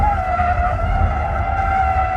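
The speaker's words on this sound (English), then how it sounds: "This drifts pretty well." An all-wheel drive electric car drifts with a continuous loud tire skid and steady whine, sustained without break and close by, with no talking.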